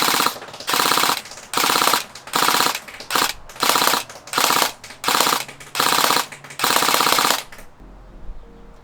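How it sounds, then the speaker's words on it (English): A CYMA MK18 airsoft electric rifle with an Aries M4 mid-cap magazine fires full auto in about eight rapid buzzing bursts of even length, each separated by a short pause, close and loud, ending in quiet. "It shoots plastic BBs using electricity."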